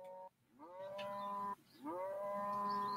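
A cow in the Deeeer Simulator video game lets out two long, tonal moos in succession, clear and fairly close, each rising into a sustained drawn-out call with no talking over them.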